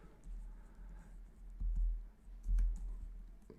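Typing on a computer keyboard, heard as short bursts of soft, close key clicks with a few louder thuddy presses in between against a quiet room.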